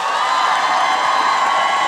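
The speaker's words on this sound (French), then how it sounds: "Je veux qu'on donne une bonne main d'applaudissement." A live comedy audience claps and cheers loudly, a dense continuous roar of applause with shouts and whoops, sustained evenly from start to finish.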